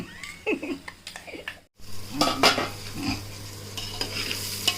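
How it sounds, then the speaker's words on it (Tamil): Onions sauté in oil for seeraga samba chicken biryani, with close, busy spoon stirring and scraping over a soft sizzle and a brief cut near the middle. "வெங்காயம் நல்லா வதங்கிடுச்சு பாருங்கள்"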